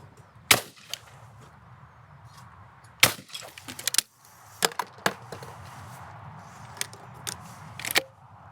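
A Browning Ultra XS Pro shotgun fires at a crossing clay target, a few sharp, loud reports spaced seconds apart, with quieter clicks and handling knocks in between.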